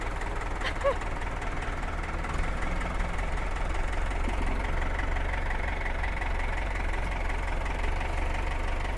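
A Ford 6410 80-horsepower tractor with a Carraro front axle runs its engine steadily nearby, a continuous low diesel rumble with a knocking edge that holds level throughout.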